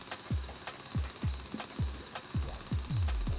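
Rock walls being drilled in the Manic Miners video game: a run of about eight repeated, fairly loud mechanical thumps with falling tones, steady rhythm over a continuous buzzing whine, no talk.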